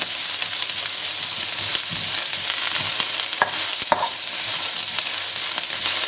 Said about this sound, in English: I just want to get this chorizo just a little brown up a little bit